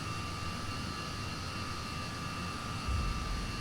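Steady jet engine whine from a De Havilland Comet 4C airliner taxiing in Microsoft Flight Simulator X, a constant droning hum with a sustained tonal whistle and a slight low surge near the end.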